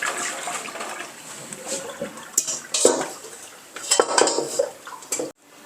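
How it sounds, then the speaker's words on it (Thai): An iron wok and pans are washed in water, with clanking metal, scraping and splashing in irregular close bursts, ending abruptly. "ล้างให้สะอาดแล้วแขวนไว้ค่ะ"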